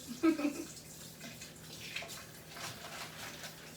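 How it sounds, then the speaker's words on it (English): Water runs from a tap as food is rinsed, a soft wash of flow with a few splashy bumps. It stays faint throughout. "I'm almost done with the rinsing process."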